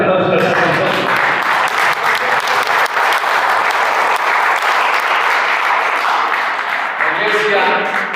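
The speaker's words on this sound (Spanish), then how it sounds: "Por eso le denle un aplauso a la persona." A church congregation breaks into loud, sustained applause of dense clapping that carries on for several seconds, with faint voices mixed in and tapering slightly at the end.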